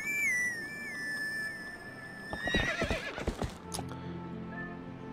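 Epona the pony in Zelda Twilight Princess HD lets out a loud, shrill whinny that trails off, with clip-clopping hooves and a lower snort following nearby.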